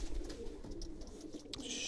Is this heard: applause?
no